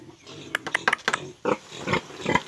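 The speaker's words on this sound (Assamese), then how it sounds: "গাহৰি গৰমত শুই আছে।" A large sow lying in a concrete-floored pig pen gives a rapid series of short, close grunts and snorts, followed by a few longer, breathier squeals.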